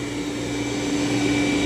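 A Dreame L10S robot vacuum cleaner runs with a steady motor whine and a constant tonal hum. It is moderately loud and grows slightly louder over time.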